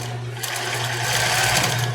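A sewing machine runs a straight stitch while sewing a cropped top, a fast steady mechanical whirr that speeds up slightly, close and without talk.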